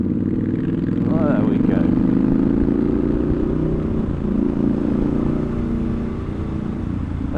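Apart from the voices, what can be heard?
Triumph Scrambler 1200XE motorcycle being ridden through bends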